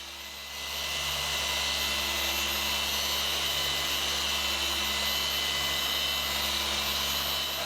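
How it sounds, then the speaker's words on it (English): Rupes Mini Duetto 75 Bigfoot machine polisher working on the small panels of an oxidized Evo 8, a steady, close whining hum that spins up at the start and then holds a constant drone. "I'm using a Repes Mini Duetto 75 Bigfoot to get to these areas"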